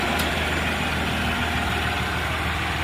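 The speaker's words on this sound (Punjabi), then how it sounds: "ਬਾਜ ਦੇਖੋ ਕਿੰਨੀ ਪਿਆਰੀ ਆ ਜਮਾ ਹੀ ਸਾਇਲੈਂਟ ਆ ਟਰੈਕਟਰ ਦੇਖੋ" A New Holland 5620 CRDi 4x4 tractor of about 65 horsepower idles quietly, its low engine hum a steady, even drone with no talk over it.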